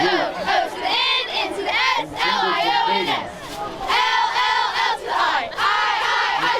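Football cheerleaders shouting and cheering together at a high school Friday night football game, a continuous loud chorus of voices rising and falling in rhythmic chant-like bursts.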